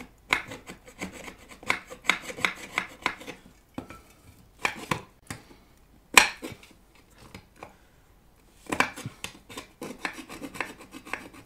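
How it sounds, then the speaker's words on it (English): A half-round file rasps across an aluminium amplifier chassis in bursts of quick, close strokes, with short pauses between runs and no talking. "I will use a file on this side. Maybe the half round one."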